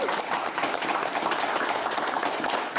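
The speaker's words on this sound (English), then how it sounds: "big round of applause, Sharron Davies" Studio audience applauding on a television talk show, a dense, steady wash of clapping at close range that holds for the full three seconds without a break.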